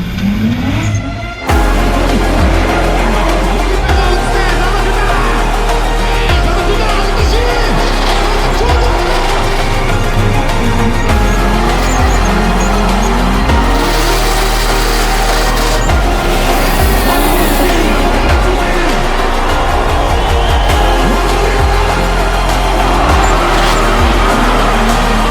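A drift car on borrowed tires rolls out to the start line at a Mongolian drift event, its loud engine droning and revving up and down close by throughout, with faint tire noise.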